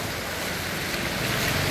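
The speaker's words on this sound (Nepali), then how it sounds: "यो मदन भण्डारी कलेज नेरीको खोला हो" A rain-swollen river in flood near Madan Bhandari College in Kathmandu rushes past as a steady, loud, broadband roar of churning water, with no voices.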